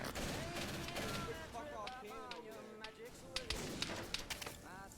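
Rifle gunfire in a Vietnam-era war video game, sharp shots popping in scattered bursts, a few louder cracks near the end, mixed under constant overlapping voice chat from several players.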